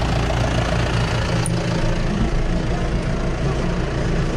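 A tractor engine idles close by, a loud, steady low rumble with an even mechanical chug that holds throughout and has no voices over it.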